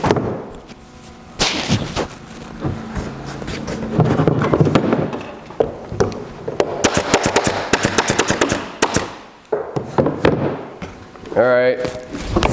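A nail gun drives fasteners through the stiles of a wood panel being assembled into a mitered column, firing a series of sharp, loud bangs in uneven bursts. A voice may be talking in the background between shots.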